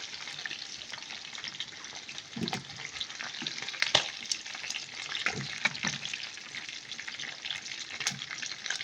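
Chicken pieces fry in a pan with a bright, constant crackling sizzle, while a spatula stirs them in a few scraping strokes; close up and alone without voices.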